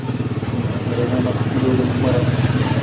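A Honda 125 motorcycle engine runs at a steady idle on fuel mixed with fresh gasoline, giving a continuous low throb with a rapid, even pulse that stays close and fairly loud throughout.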